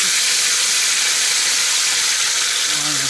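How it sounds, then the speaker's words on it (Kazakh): Hot oil in a frying pan gives off a loud, continuous hissing sizzle that fills the whole stretch without a break. "Алымыз майымыз қайнады."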